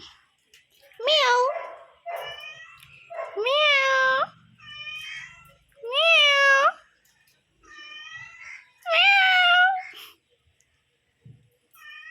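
A cat drawn by the smell of fish gives a series of loud, rising meows, about five in a row with short pauses, interspersed with softer mewing calls.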